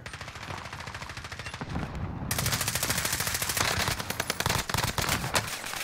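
Rapid bursts of PPSh submachine gun fire in a video game firefight, dense rattling volleys running nearly continuously, loud and close, with heavier sustained automatic fire in the second half.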